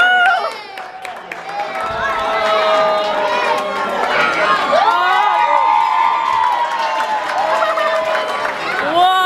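A crowd cheers, whoops and claps at a marriage proposal on Valentine's Day, a loud sustained swell of excited voices with shouting mixed throughout.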